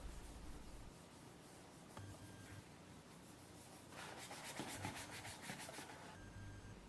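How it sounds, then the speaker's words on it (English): Paste wax rubbed onto a leather pencil case, a soft continuous brushing friction with a burst of quicker back-and-forth strokes midway, close and quiet. "I'm applying some paste wax to protect and shine the leather."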